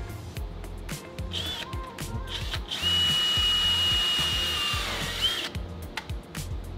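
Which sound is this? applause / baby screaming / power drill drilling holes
power drill drilling holes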